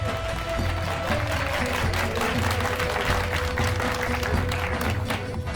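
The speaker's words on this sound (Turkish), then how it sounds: "Alkışlar Halit Başkan için." Steady, dense crowd applause for Mayor Halit at a Turkish martial arts demonstration in Çarşamba continues evenly throughout, with a faint tonal hum running underneath.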